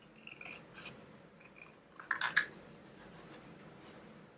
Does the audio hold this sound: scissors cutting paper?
yes